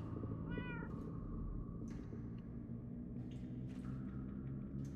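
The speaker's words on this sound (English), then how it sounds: "Just sounds like a bunch of cats." Cats meow in the video game Minecraft Story Mode: a single short, clear meow comes near the start, over a dense, steady, low rumbling game soundscape with faint higher chirps.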